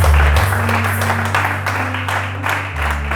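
Church congregation at a French-language service applauding, loud continuous clapping over a sustained low organ or keyboard tone.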